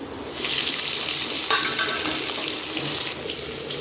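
Mutton muthiya dumplings go into hot oil in a wok, setting off a loud, steady sizzling hiss that begins after a brief quiet moment and continues throughout, with no talking.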